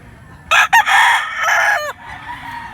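A fighting rooster, a white hatch with blue legs, gives one loud, close crow that breaks into a few choppy bursts before it trails off.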